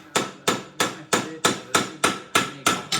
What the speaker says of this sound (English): So now you're hitting it with a hammer.